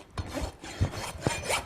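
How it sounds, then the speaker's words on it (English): A farrier's rasp files a horse's hoof wall during a barefoot trim, rounding off the horn in a few quick, rough scraping strokes, close and fairly loud. "now I'll take the rasp, and I'm tipping the rasp up at about a 45-degree angle and starting to round off"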